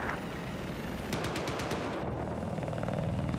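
Helicopter in Battlefield 4, its steady rotor roar and engine drone running throughout, loud and close, with rapid bursts of machine-gun fire cutting through partway and no talk.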